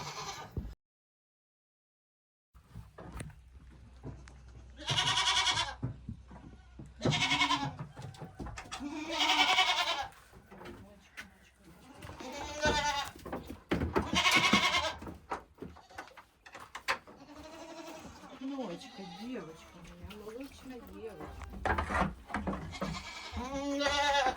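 Dairy goats at milking time bleat repeatedly, loud and close, in a series of wavering cries with short pauses between them, some overlapping.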